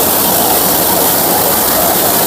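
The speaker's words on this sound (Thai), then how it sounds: "น้ำไหลข้างบน" Water flows and rushes inside a python cave, a loud, constant roar close by with no breaks and no voices.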